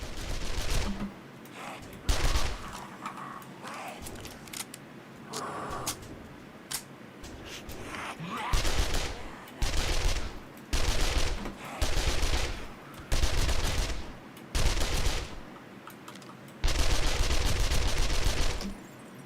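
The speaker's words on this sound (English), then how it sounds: "This is the SMG. This is probably the first time I've ever used it to this degree" An SMG firing 9mm rounds in 7 Days to Die, loud rapid bursts of automatic fire, some short and some sustained for a second or two, separated by brief quieter gaps.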